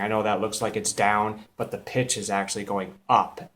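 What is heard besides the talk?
No distinct noise like a dog, phone or traffic.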